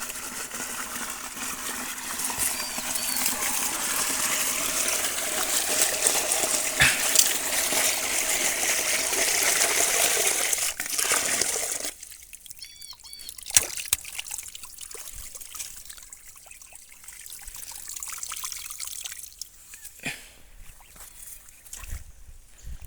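Water pours from a farm pump motor left running for hours in a field, a steady rushing flow at first that drops to a softer, uneven trickle partway through, with no voices.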